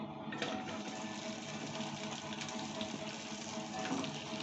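Onions frying in oil in a pot, a steady, even sizzling hiss that fills the moment without a break and stays moderately quiet, with no talking.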